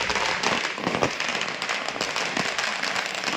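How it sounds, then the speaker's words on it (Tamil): A rapid string of firecrackers crackles and pops in dense, irregular bursts, loud and close, at a Tamilaga Vettri Kazhagam political party event. "இப்போ பட்டாசு வெடிக்கிறது நீங்கள் பாருங்கள்."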